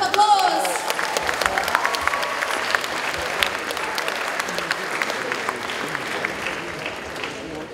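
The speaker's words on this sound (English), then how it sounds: "Round of applause!" A convention crowd applauds a cosplay performer on stage, producing dense, sustained clapping that stays loud throughout, with a voice briefly audible at the start.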